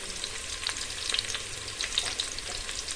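Spices frying in oil in a pot for pulao are stirred, giving a steady close sizzle with scattered scraping clicks from the spoon and no voices.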